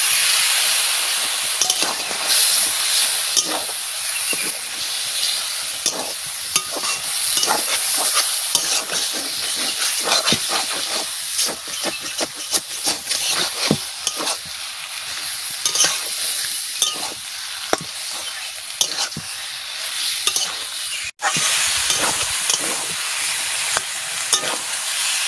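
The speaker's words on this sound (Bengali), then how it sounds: "মশলা ভাজা হয়ে গেছে, এবারটা আমি মাংস দিয়ে দিচ্ছি।" Mutton sizzles in spiced oil in a pan while being stirred, with a continuous loud frying hiss and repeated clattering spatula scrapes throughout, plus one brief dropout near the end.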